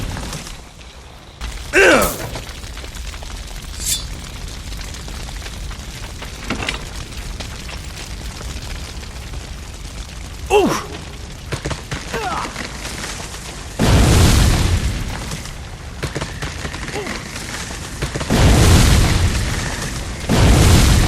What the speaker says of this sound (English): The whole forest is on fire.